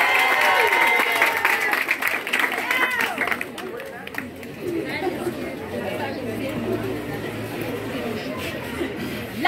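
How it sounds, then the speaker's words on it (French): A school debate audience applauds and cheers a student speaker, loud dense clapping that tapers after a few seconds into crowd chatter and murmuring voices. "Mesdames, messieurs, sous vos acclamations"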